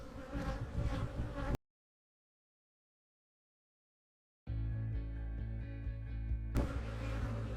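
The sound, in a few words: bees buzzing in a hive colony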